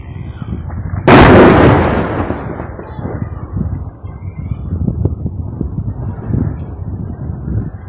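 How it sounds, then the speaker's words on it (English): A loud artillery shell explosion in a war zone bursts suddenly and then rumbles on as a long, rolling low boom with scattered crackles trailing behind it. "استهداف تجمع البركي بقذائف مدفعية من قبل المجاهدين الأبطال"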